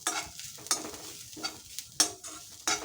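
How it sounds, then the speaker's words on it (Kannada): Grated coconut for nellikai tambuli is stirred in a hot pan off the flame, with a few separate scraping strokes and a soft sizzle, close and quiet with pauses between the strokes. "ಕಾಯಿ ಹಾಕ್ಕೊಳ್ತೀನಿ. ಇದೇ ಬಿಸಿಯಲ್ಲಿ ಒಂದೆರಡು ಸುತ್ತು ಹುರ್ಕೊಳ್ತೀನಿ."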